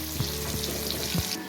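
Onion and bay leaves frying in hot oil for mutton chusta, a steady dense sizzle with faint stirring knocks, loud and close throughout.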